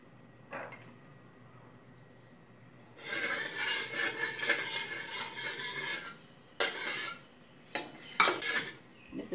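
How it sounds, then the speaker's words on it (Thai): Oil hits a hot wok with a sizzling hiss that lasts a few seconds, followed by a few sharp clanks of a utensil against the pan, while stir-frying Chinese kale with minced pork. "กระทะร้อนแล้วเราก็มาใส่น้ำมันค่ะ"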